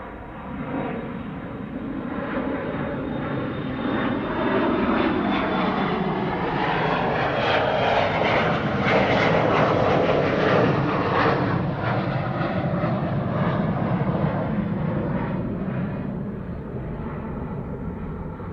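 A Boeing 777-300 jet airliner takes off at Amsterdam Schiphol Airport, its engine roar swelling to a loud peak mid-pass and then fading, a broad rumbling wash with no voices over it.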